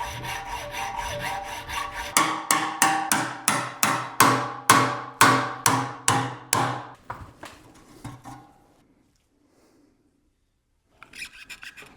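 A manual handsaw rasps through a rubber subframe bushing from a Nissan 240SX in a steady rhythm of about a dozen strokes, close by, before stopping into quiet.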